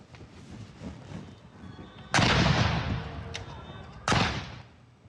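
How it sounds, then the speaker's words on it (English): A 21-gun ceremonial salute fired by indigenous 105mm Indian field guns at an Indian Army ceremony: two loud, booming reports a couple of seconds apart, each with a long rolling echo, over a low outdoor hum. "The gunners of the Field Battery Ceremonial presented the traditional 21-gun salute by the indigenous 105mm Indian field guns."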